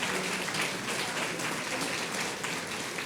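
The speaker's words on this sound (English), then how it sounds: "Let's give the senator another round of applause." An audience gives a senator a round of applause at a Charleston, South Carolina event: steady, dense clapping from many hands, moderately distant, with no talk over it.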